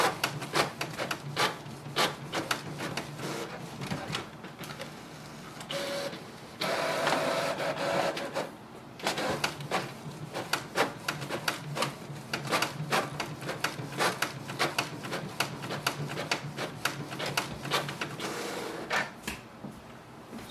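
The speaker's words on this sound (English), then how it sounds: "it will start printing." A Canon Pixma G6050 printer runs a double-sided copy job, giving off a steady stream of rapid mechanical clicks and whirring feed sounds, with louder bursts of rolling transport as the paper passes through. No one speaks over it.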